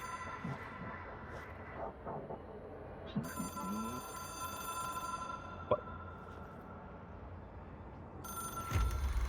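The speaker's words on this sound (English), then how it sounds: "It is a phone." A telephone rings in a video game, its steady ringing tones running through most of the stretch over a busy game soundscape, with a few sharp knocks and a louder burst near the end.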